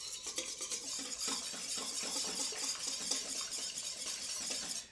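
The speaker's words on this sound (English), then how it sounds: "So if I mix it around, you'll see it just mixes right into like nothing." Spoon steadily stirring flour and sugar in a bowl for hamburger bun dough, making a continuous close scraping and swishing that runs without pause, with no voices.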